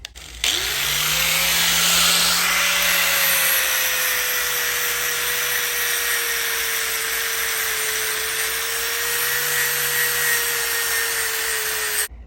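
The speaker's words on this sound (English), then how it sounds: "Use an angle grinder with a sanding disc on it and take all the foundry scale off of the surface of this metal" An angle grinder fitted with a sanding disc grinds foundry scale off a steel plate, a loud continuous whine that drops in pitch under load and holds steady for the whole stretch, with no voices.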